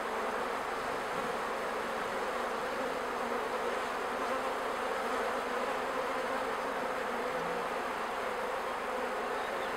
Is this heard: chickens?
no